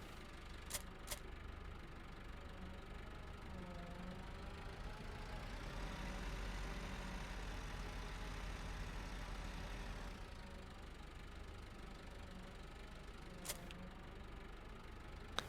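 A tractor engine idles steadily in Farming Simulator 15, a low continuous drone that swells slightly in the middle then settles, quiet and alone with a few faint clicks.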